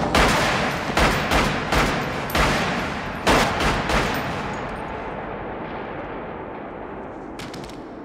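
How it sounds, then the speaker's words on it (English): Gunfire from the film The Jackal as the character is shot repeatedly: a loud rapid burst of several close gunshots in the first four seconds, each booming and echoing, then a long fading reverberant tail. "McQueen quickly shoots him repeatedly and the Jackal is no more."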